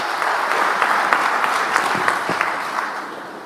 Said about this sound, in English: Another round of applause, that was marvelous